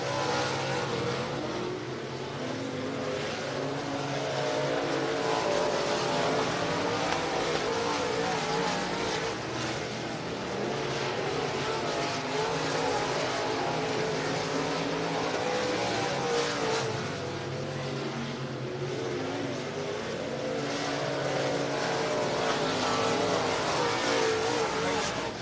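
Open wheel modified race cars roar steadily around the dirt oval at I-75 Raceway in Niota, Tennessee, engines droning continuously with faint crowd and announcer talk underneath.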